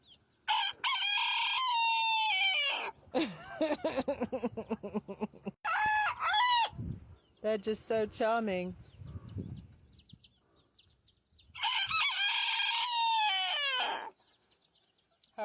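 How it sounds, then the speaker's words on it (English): A flock of prize-winning roosters and hens crowing loudly in several long bursts, with clucking and cackling between the crows; a person speaks briefly among them. "My gentleman chicken friends."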